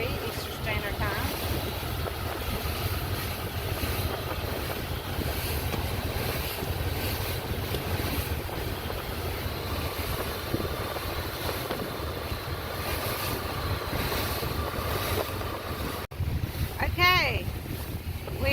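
A boat under way on the Neuse River, its motor and water rushing steadily throughout with heavy wind buffeting the microphone, and a brief sharper sound near the end.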